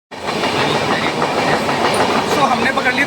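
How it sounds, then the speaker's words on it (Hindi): The Taj Express rolls along the rails, a loud, continuous rumble with rhythmic clacking heard from inside the carriage. "तो हमने पकड़ लिया ताज एक्सप्रेस"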